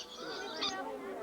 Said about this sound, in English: Must be a hungry bird, Heather.